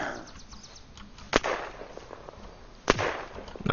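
Gunfire in the video game Unturned while shooting zombies: two sharp single shots about a second and a half apart, moderately loud over a quiet background.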